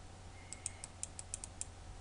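About eight sharp, quick keystrokes on a computer keyboard, close and fairly quiet, spaced irregularly over a low, steady room hum.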